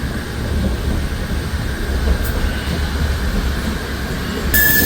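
A passenger train approaching Ambala rumbles steadily along the rails, a constant loud low roar with faint metallic squeals, ending in a brief high screech.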